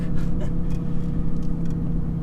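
A truck's engine hums steadily from inside the cab, a continuous low drone with faint road noise and no speech.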